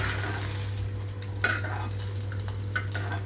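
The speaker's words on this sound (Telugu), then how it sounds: "వీటన్నిటిని ప్లేట్లోకి తీసేసుకుంటున్నాను నేను ఇప్పుడు." Fried green chillies scraped and lifted from a pan onto a plate, with steady low sizzling throughout and a few sharp metal scrapes and clinks of a spoon against the pan.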